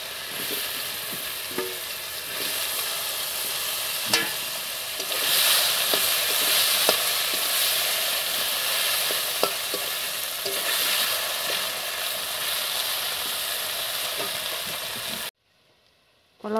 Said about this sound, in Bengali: মাছ ভাজার তেলের মধ্যে এবার কলাগুলো একটু ভাজা দিয়ে নেব।